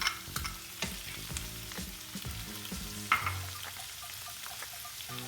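Chicken pieces frying in a pan for a fajita sandwich, a close, lively sizzle with scattered pops and rhythmic scraping and clinks of a spatula, no voices.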